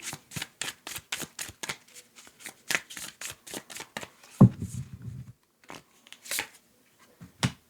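Tarot cards being shuffled by hand, a steady run of soft, crisp riffling taps close up, broken once by a brief low thump of handling before the shuffling resumes.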